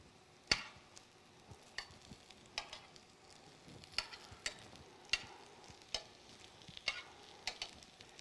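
Pumpkin wedges fry in a pan and get stirred, with quiet clicks and scrapes of the utensil at a steady pace over a faint background, close but soft.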